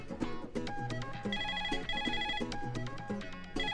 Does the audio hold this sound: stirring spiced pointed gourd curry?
no